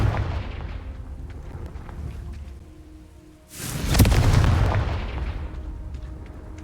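A Confringo spell bursts in Hogwarts Legacy as a sudden loud explosive boom, rising sharply out of quieter ambience and rumbling on for a few seconds before fading.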